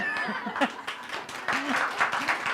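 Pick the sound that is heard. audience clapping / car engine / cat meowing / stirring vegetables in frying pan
audience clapping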